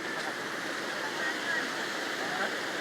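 Water gushes steadily from a utility water-main pipe near a bridge, a dense, even rushing flow with no pauses, while voices murmur faintly underneath.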